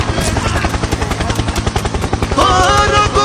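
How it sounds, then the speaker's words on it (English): Helicopter in the Dead by Daylight video game: a loud, steady rhythmic rotor chop pulsing through the whole stretch, with a rising tonal sound joining near the end. "Helicopter! Helicopter!"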